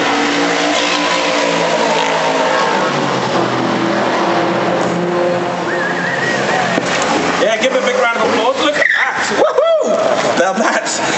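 TVR Vixen sports car at a classic-car live show, heard amid a loud, steady crowd and engine noise, with rising revs and throttle blips toward the end as it comes onto the stage.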